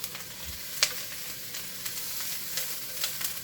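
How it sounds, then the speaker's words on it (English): Chopped onions sizzling in a hot pan for fried rice, a steady close hiss of frying with a few sharp crackles and pops scattered throughout. "You can hear that nice sizzle, right?"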